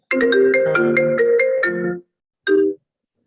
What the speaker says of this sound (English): Sorry, phone call.